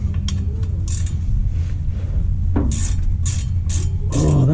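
Ratchet wrench working rusty half-inch bolts loose on a 1979 Ford transmission, giving close, loud bursts of rapid metallic clicking separated by short pauses, with faint clinks of metal.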